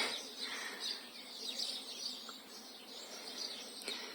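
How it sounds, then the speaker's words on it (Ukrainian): Several birds chirp and sing steadily in the open air of a backyard in late May, bright trilling calls repeating over a faint outdoor hush. "послухати, як пташки співають"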